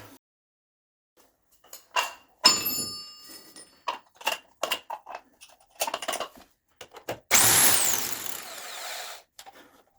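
Bormann BPH4500 Pro SDS Plus hammer drill set to chisel mode, breaking into masonry in short rattling bursts, then one longer loud, harsh chiseling run near the end.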